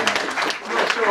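A studio audience applauds a game show guest as he is introduced, a dense broadband clapping that runs through the whole short stretch with a host's voice over it.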